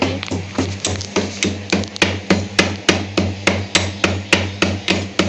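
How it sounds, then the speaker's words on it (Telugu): Close, steady pounding of cardamom pods in a mortar, sharp strikes repeating about three times a second in an even rhythm, with nothing else heard. "5 ఇలాచీలని దంచుకోవాలి మంచిగా."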